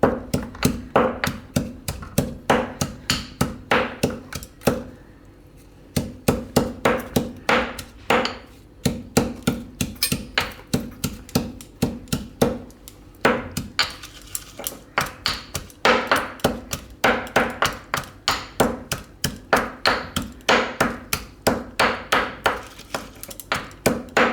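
Grapes being pounded and crushed with a pestle for a grape mojito, a long run of rapid, loud, close thudding knocks in uneven bursts with a short pause, no talk.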